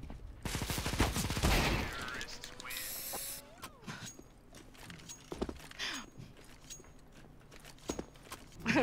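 Gunfire from a multiplayer video game played on the Lake map, with a burst of rapid shots early on and scattered single pops afterward, heard beneath players chatting over voice comms.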